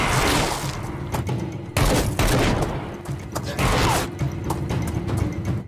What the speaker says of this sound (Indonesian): Di situ terjadi aksi baku tembak antara Mariano dan polisi jahat itu.